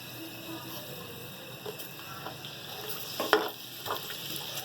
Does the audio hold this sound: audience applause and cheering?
no